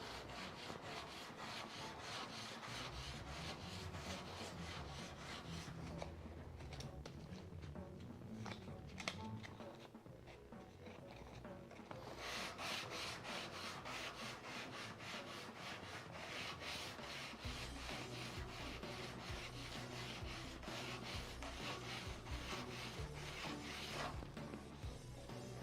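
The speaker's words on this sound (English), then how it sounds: "using a sandpaper." Sandpaper rubs steadily over a concave wooden surface, a close, continuous rasping hiss that holds almost unbroken throughout, with a brief lighter stretch partway through.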